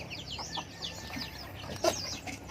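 Chickens, a hen and a rooster, cluck and chirp softly nearby, a few short calls rising over quiet background, with one sharper squawk near the end.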